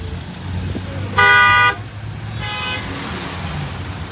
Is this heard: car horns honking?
yes